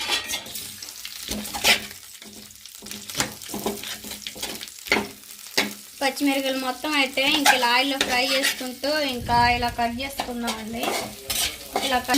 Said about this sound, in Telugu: ఇంకా పుట్నాలు కూడా ఫ్రై చేసుకుందాం